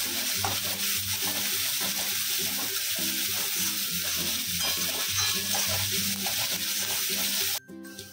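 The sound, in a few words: three medium onions frying and being stirred until brown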